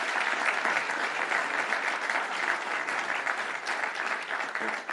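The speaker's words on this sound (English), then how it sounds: "Can we give our budgeteers a round of applause" A large crowd applauds steadily for budgeteers at a Cook County public announcement, dense clapping holding loud and even throughout with a faint voice or two underneath.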